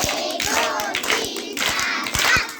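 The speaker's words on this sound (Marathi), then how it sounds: "पाच टाळ्या वाजवा" Children in a primary-school maths lesson clap together in a short counted run of claps, the beats evenly spaced and close by, with a little chatter around them.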